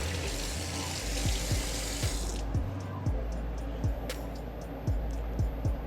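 A gold ring is rinsed under a running tap into a sink, a steady close splash of water with soft low knocks recurring about every second.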